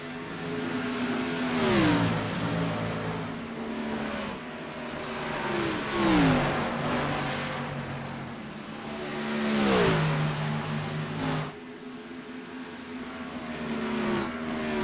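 Race cars roar past one after another on the oval at Kentucky in an IROC Challenge Series race, each pass swelling loud with a falling engine pitch before fading.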